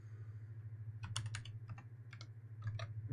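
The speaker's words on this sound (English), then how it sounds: "gotta type it myself" Bursts of typing on a computer keyboard while entering C code, clusters of crisp key clicks with short pauses between, close and moderately quiet over a steady low electrical hum.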